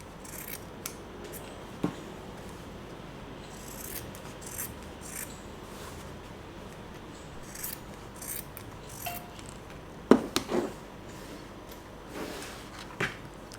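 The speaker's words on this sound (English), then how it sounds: "Now let's cut the excess fabric." Scissors snip away excess fabric on a headband craft, a series of soft irregular crisp cuts and rustles close by, with a couple of louder snaps, and no talking.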